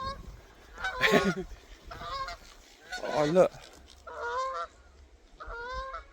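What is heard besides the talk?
geese honking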